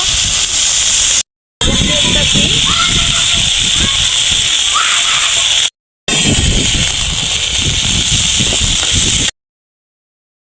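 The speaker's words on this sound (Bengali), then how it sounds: "তেলটা গরম হয়ে গেছে, এখন শাকটা দিতেছি।" Hechi shak greens hiss and sizzle loudly in hot oil in a home kitchen, a harsh continuous frying noise broken by a few short cuts of silence.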